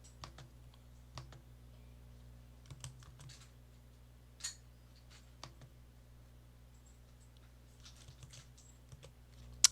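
Computer keyboard keys are pressed in sparse, irregular taps and short clusters during an RStudio session, quiet and close against a steady low hum, with no talk over them.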